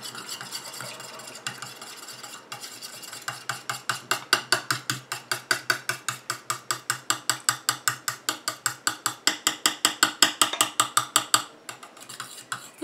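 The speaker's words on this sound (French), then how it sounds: "Et je continue à mélanger comme ça jusqu'à ce que mon émulsion épaississe et refroidisse" A clay face mask emulsion being whisked by hand, with fast, steady rhythmic clicks of a utensil against a bowl that swell and continue for several seconds without talk.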